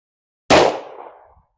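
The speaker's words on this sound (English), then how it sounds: "2 rounds out of the Glock 29 Gen 5." A single sharp report from a Glock 29 Gen 5 firing 10mm Sig Sauer hollow-point ammunition cracks loudly after silence and fades over about a second.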